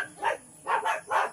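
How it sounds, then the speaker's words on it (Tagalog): A pet dog barking at home, about four quick barks in two pairs, moderately close and loud, with no talk over them. "maingay na naman yung aso ko"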